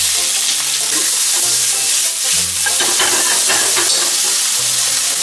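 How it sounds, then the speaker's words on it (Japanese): Ingredients for a ketchup Napolitan pasta are stir-fried in olive oil in a pan, with a loud, continuous close sizzle broken by the scrape and clatter of stirring throughout, no voices. "まずオリーブオイルを敷いて具を炒めていきます"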